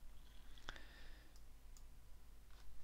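A single sharp mouse click sounds on a button, quiet and close, followed by a couple of faint ticks in a still room.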